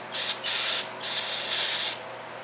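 Aerosol can of penetrating oil sprayed onto the starter bolts of a 1998 Arctic Cat 300 4x4 ATV, in three short loud hissing bursts with a sputtering tail as the can runs low.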